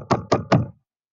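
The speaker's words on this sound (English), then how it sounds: "Suddenly, Percy heard a tapping sound." Three quick knocks on a door at night, close and firm, evenly spaced, then silence.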